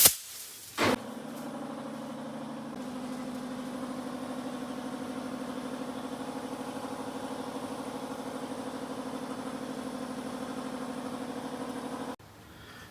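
Bug Bazooka abrasive blaster firing from an air tank in a shop, a sharp pop followed by a steady loud hissing rush that holds for about eleven seconds before stopping.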